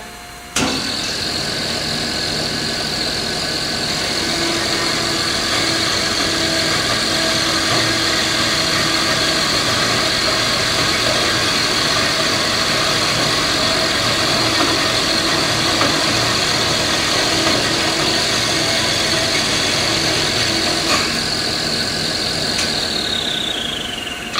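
A bandsaw runs steadily and loudly, cutting an aluminum screwdriver blank, with a continuous motor drone and a high whine that holds throughout, then drops in pitch near the end as the cut finishes.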